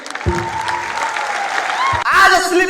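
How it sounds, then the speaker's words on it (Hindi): Audience at a business gathering applauding for their teachers, a full burst of clapping with music playing and a voice under it. "एक जोरदार ताली हमारे सभी गुरुजनों के लिए।"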